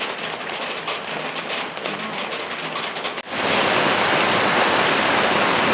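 Heavy rain pouring down during flooding around a house, a soft, dense patter that suddenly turns into a loud, full roar of downpour partway through and stays steady, with no voices.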